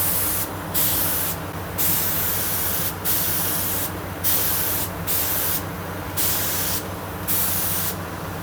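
Clear lacquer sprayed onto a Squire Stratocaster guitar body during a refinish, heard as repeated steady hissing aerosol bursts of about a second each, separated by short gaps, close and loud throughout.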